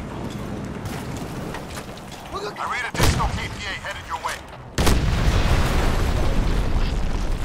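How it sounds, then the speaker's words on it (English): Grenade blasts in the shooter game Crysis, with booming explosions at about three and five seconds over steady game noise and rumble, the second blast followed by a sustained roar. "We have some grenades. Let's go chuck some grenades at people."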